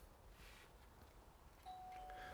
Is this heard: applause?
no